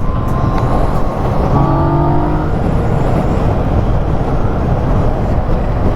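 A 2020 Yamaha MT-09 motorcycle accelerating on the road, a loud steady engine drone with heavy wind rush, plus a brief rising tonal whine partway through.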